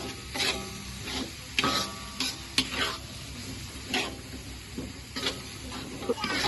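Spice paste for shrimp and fern gulai sautéing in oil in a pan, a steady sizzle broken by repeated scraping stirs of a utensil, close and moderately loud.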